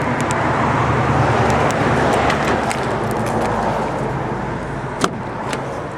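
Road traffic streams past outdoors, a continuous broadband wash of passing cars with one sharp knock near the end.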